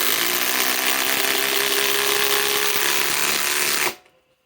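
A Ryobi PSBIW25 compact impact wrench on an 8 amp 21700-cell battery drives a 5-inch by 3/8 lag bolt, hammering loudly and steadily for about four seconds before stopping abruptly.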